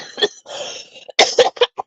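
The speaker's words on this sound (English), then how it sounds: "Oh, I have to cough." A few sharp, throaty coughs from vaping in quick succession, close and fairly loud, with a rough exhale between bursts.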